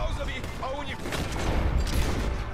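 Gunfire in Red Dead Redemption 2 during a jailbreak: a burst of gunshots and booms under steady game noise and talk, loud and continuous across the clip.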